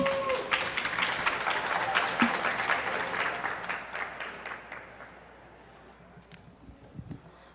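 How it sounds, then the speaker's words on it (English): Audience applause for architects building a tower at a design event, a burst of many hands clapping that starts full and gradually thins out, leaving a few scattered claps and faint room noise at the end. "let's give them another round of applause"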